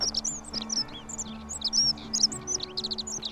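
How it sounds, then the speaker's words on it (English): Loud birds in The Forgotten City chirp and tweet in quick, overlapping bursts over a low steady hum, close and continuous throughout. "There's some loud birds."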